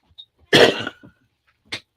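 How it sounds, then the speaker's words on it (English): A single harsh cough up close, followed a moment later by a short, softer throat noise, in otherwise quiet surroundings. "Coughing is still not good with broke ribs."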